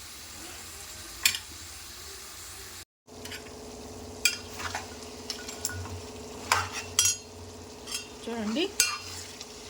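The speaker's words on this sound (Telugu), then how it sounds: "మంచిగా నూనెలోనే ఫ్రై కావాలండి" Goat head curry pieces fry in oil inside a covered pot with a low, steady sizzle, broken by sharp clinks and scrapes of a ladle against the pot, close by.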